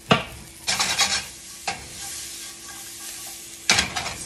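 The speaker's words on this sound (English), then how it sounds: "So just give everything a nice toss in the pan until it gets aromatic" Aromatics for braised short ribs sizzle and hiss in a hot pan, tossed three times, each toss a loud rush of frying that settles back to a steady crackle.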